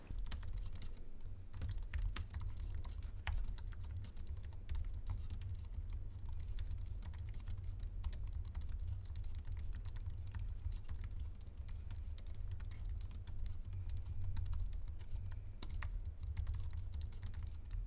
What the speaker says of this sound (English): this is a typing test of the Apple Magic keyboard